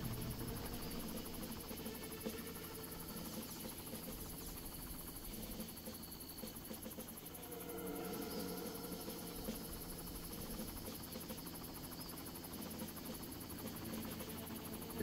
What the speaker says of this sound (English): Don't aggro the helicopter.